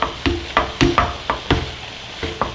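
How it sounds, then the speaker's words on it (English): A spoon stirs seasoned ground turkey in a pan, giving a steady series of close scraping knocks about twice a second over a faint sizzle. "So let's just stir this around like so."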